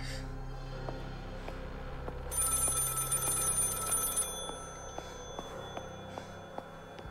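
A telephone rings repeatedly in a quiet room in the game Maid of Sker, bright electronic trills with a sharper, louder ringing stretch midway; faint talk in the background.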